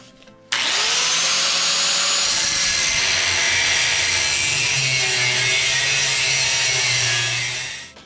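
Power tool cutting through a wooden board for a loader forks modification, one long continuous whining cut running loud and steady for about seven seconds before winding down, with no talk.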